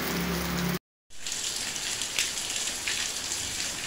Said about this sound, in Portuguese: Desde a madrugada que chove, vai chover bastante hoje.